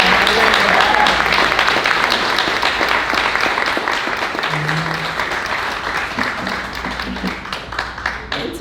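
Audience applause at an emerging leaders commencement, dense and steady clapping from a sizable crowd that slowly tapers off. A brief voice can be heard under it.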